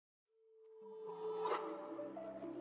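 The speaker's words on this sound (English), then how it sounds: "I used the Euphoria kit again and I went to the accent section and I picked this toy transition" A toy transition effect from the Euphoria kit: a thin sustained tone fades in, then blooms into a shimmering, whooshing swell that peaks sharply partway through and rings on, alone and fairly close.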